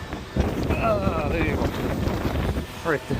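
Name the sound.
wind blowing at a beach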